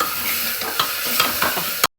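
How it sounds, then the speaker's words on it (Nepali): Gundruk, fermented Nepali greens, sizzles in a pan with cumin-coriander powder and salt while being stirred, a close, even frying crackle with soft scraping strokes that stops abruptly. "अब यसलाई एकछिन चट्टी भुट्ने"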